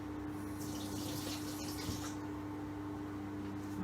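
Tap water runs steadily into a sink while a silicone Tupperware pizza mould is rinsed, producing a constant close hiss with light splashing and small shifts as the mould moves under the stream.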